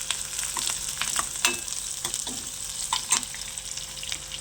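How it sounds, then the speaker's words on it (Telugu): Onions and green chillies fry in a pan with a steady close sizzle, punctuated by scraping stirs and spatula clicks throughout; no one speaks. "నాకు ఇలా ఇష్టం, ఉల్లిపాయ పచ్చిమిరకాయ అన్నీ ఎగుతుంటే"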